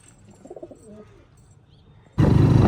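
A pair of pigeons coo softly in a short series of low, rounded calls, followed by a sudden loud burst of broadband noise near the end.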